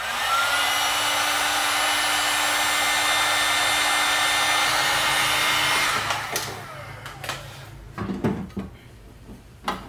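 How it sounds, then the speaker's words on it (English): A heat gun blows steadily at close range for about six seconds while warming a nylon fuel tube on an EFI polyethylene fuel tank installation for a Ford, then cuts off, followed by a few light clicks and knocks. "Heat gun works better."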